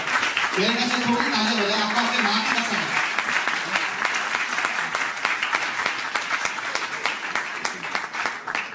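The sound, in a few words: audience applause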